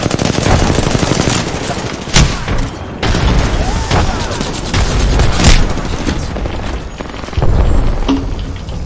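Dense, loud automatic gunfire and heavy booms from an online shooter game fill the whole stretch, with barely a pause between bursts and a player's voice faintly underneath.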